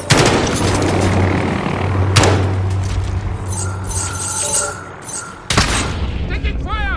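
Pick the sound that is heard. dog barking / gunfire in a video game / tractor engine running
gunfire in a video game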